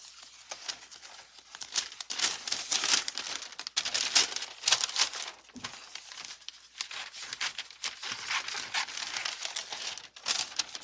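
A piece of tape crinkles and tears during an earring craft with Infusible Ink and parchment paper, with close, loud bursts of crumpling and ripping that come and go for several seconds, no talk.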